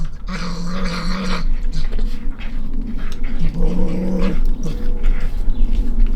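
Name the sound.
fishers vocalizing in kennel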